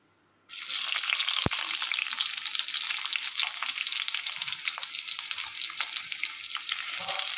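Oil heats in a pan for a carrot chapathi dish with cauliflower and peas, giving a steady, loud, close sizzle that starts abruptly and holds with a dense crackle and no speech.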